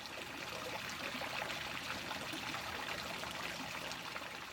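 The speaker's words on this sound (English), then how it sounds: "Connect, on, start. Let the Flushmaster flush them for you." Water rushes steadily through Flushmaster quick connects while Yamaha outboard engines are flushed, a constant broadband hiss and trickle with no pauses, at moderate level with no voices.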